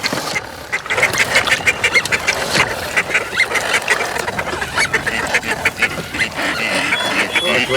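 Live decoy ducks quack repeatedly in a Camargue marsh during a hunt, a dense, continuous stream of loud, overlapping calls close by, with possible faint talk underneath.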